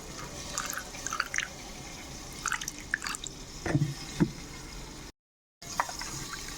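Water poured into a mix of chili, cumin and turmeric powder for a Bengali pointed gourd curry, heard as a few soft scattered drips and splashes at close range with no talk.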